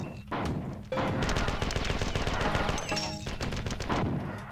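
Dual-wielded machine gun fire in the Marathon 2 video game, a dense continuous rattle of rapid shots with brief gaps and small breaks in the stream, loud and close throughout.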